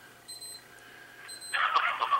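A phone alarm goes off, at first a few faint high beeps and then a louder, bright repeating chime pattern near the end.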